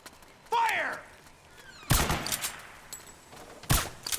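Bursts of rapid gunfire crackle in the video game Metal Gear Solid 4: Guns of the Patriots, two loud dense volleys close by after a shouted voice and a whooshing sound, with brief echoing decay between them.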